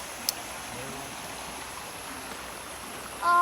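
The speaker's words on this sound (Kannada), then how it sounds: "ಹರಿಯೋ ನೀರು ಸೌಂಡ್ ಕೇಳೋಕ್ಕೆ ಚೆನ್ನ ಅಷ್ಟು" Soft, steady rushing of flowing stream water, a continuous gentle wash with no breaks.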